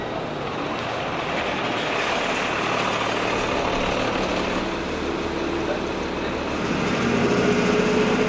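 A bus pulls in at a stop in Playa del Coco, Costa Rica, its engine rumbling steadily and growing slightly louder toward the end, with broad road noise around it.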